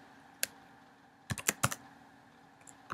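Sparse clicks from a computer keyboard, starting with a lone tap, then a quick cluster of keystrokes and a few more near the end, close and fairly quiet in a still room.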